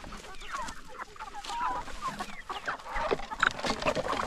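Several chickens cluck and chatter close by on a small farm at feeding time, a busy, continuous flock sound with sharper calls standing out near the end.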